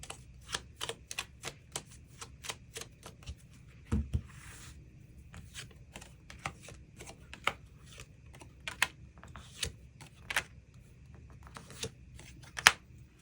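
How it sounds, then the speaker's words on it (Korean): Tarot cards being shuffled and drawn from the deck during a reading, heard as close, sharp clicks and soft flicks in an irregular run, with a brief shuffling rush near the start and no talking. "추가 카드 뽑아보도록 하겠습니다"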